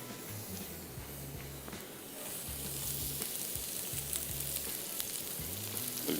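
Chopped onions frying lightly in a pan for tomato sauce, a soft continuous sizzle, close and moderate in level, with a low rhythmic hum pulsing underneath and a few faint clicks.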